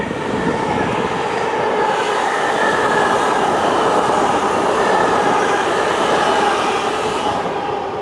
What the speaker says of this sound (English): I guess that's what I get for vlogging at a train station.